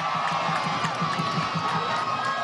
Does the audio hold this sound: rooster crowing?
no